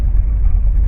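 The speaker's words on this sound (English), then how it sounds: "Going for a car ride by the sound of tires on pavement." Car tires rolling on pavement during a car ride, a loud, steady low rumble of road noise with no voices.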